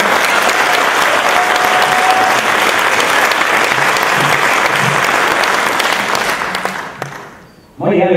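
Dense, sustained audience applause at a zither and folk music camp gala concert, loud and even for about seven seconds before tapering off, followed by a voice starting up.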